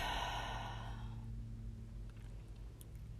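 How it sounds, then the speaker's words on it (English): A forceful yoga exhale blown out through the mouth, a close breathy whoosh in the first second that fades into quiet room hum. "and exhale, blow it out."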